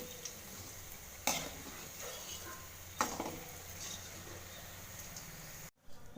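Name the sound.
onion bajji with coriander seeds frying in oil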